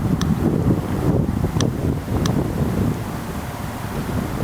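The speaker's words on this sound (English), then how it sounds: "We've got a gentle headwind, maybe a little bit right to left" Gentle headwind blowing across a disc golf course, a steady low rumble of wind buffeting the microphone for several seconds with a few faint ticks, no one talking.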